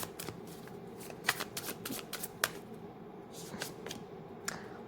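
Tarot cards riffled and shuffled by hand to draw a card, a run of crisp papery flicks and snaps in irregular bursts, close and fairly quiet, with no one speaking.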